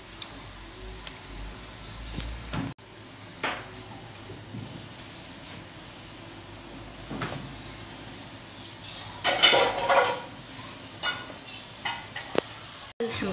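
Meat and meatballs stirred in a cooking pot of thick white Algerian sauce for a wedding-style mtewem, giving low scraping and bubbling movement with a few louder clattering bursts near the middle, no talking.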